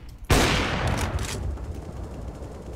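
A sudden loud gunshot blast in the video game CS:GO, ringing out with a sustained echoing tail and a few fainter follow-up cracks underneath.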